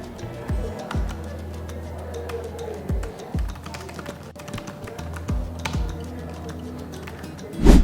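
Typing on a Logitech Signature Slim Solar+ K980 wireless keyboard, a flat low-profile board with no kickstand feet: soft, irregular key clicks tap along steadily at close range, with a louder knock at the very end.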